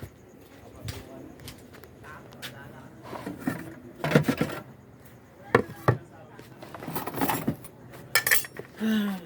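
Plates and cutlery clinking and clattering as food is served among cousins, with scattered sharp knocks and scrapes of varying loudness, mixed with casual chatter and voices nearby.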